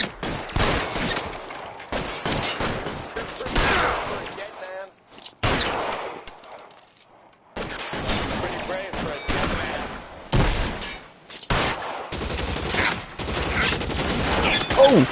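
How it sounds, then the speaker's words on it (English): Machine gun fire in L.A. Noire comes in loud, sustained bursts of rapid shots. Short pauses break up the volleys during a downtown police shootout. "Oh shit, you got a machine gun."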